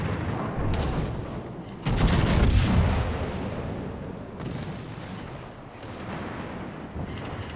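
Naval guns in World of Warships fire heavy salvos aboard the battleship Massachusetts, with booming blasts that roll into long rumbling decay and several shots spread across the clip. No speech is heard.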